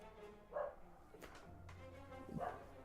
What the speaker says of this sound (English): Dogs are going mad.